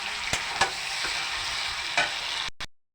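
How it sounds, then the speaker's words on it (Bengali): Tomato stirred into a sizzling pan of spiced liver curry, a steady frying hiss broken by a few sharp scraping strokes of the spoon, close and clear, ending abruptly. "এবার আমি দিয়ে দেবো একটা টমেটো, ভালোভাবে মিশিয়ে নেব।"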